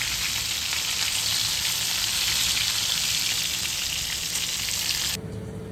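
Fish frying on a flat tava, a loud, dense, close sizzle that runs steadily before cutting off abruptly near the end.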